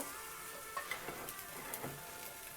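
Spices hit hot oil for beef nihari, producing a continuous bright sizzle with a few soft spits and stirring taps, close and fairly quiet.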